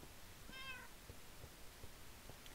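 Cat meowing in the video game Minecraft, hardcore mode, one short, clear meow near the start with a few faint soft footsteps or taps after it, quiet overall and with no talk.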